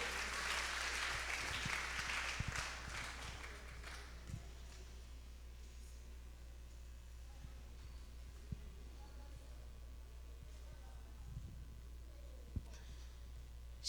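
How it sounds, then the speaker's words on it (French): Audience applause at an evangelical choir concert in a Baptist church, honouring the choir president. A dense burst of clapping for the first four seconds fades into faint scattered claps over low background hum. "Applaudissez s'il vous plaît donc à la présidente de la chorale."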